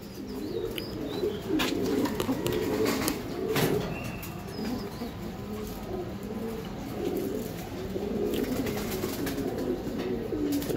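Giribaz racing pigeons from a 75 km racing line, including a breeding pair with eggs, coo steadily and softly at close range for about ten seconds, with a few faint chirps and wingbeats.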